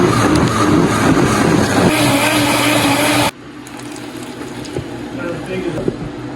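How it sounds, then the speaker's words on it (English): Blender pureeing zucchini soup, a loud steady motor whine with churning that stops abruptly midway, leaving softer kitchen room noise. "the next thing I'm going to do is I'm going to blend it"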